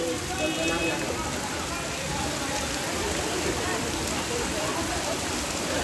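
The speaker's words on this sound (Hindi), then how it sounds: "राजधानी पटना समेत राज्य के 20 जिलों में जोरदार बारिश हो रही है।" Heavy rain pours down in Patna, a dense, continuous hiss of drops hitting surfaces that stays even and fairly loud throughout, with no voices.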